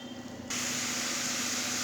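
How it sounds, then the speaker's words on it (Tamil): A pan of lemon juice tempering with turmeric, curry leaves and salt bursts into a steady, close boiling hiss after a short quiet start, continuing evenly with no voices. "இப்போ நல்லா கொதிச்சிக்கிட்டுருக்கு."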